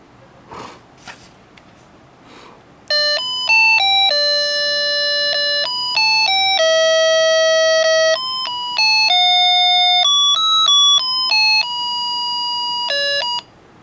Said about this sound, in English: Doorbell circuit melody demo.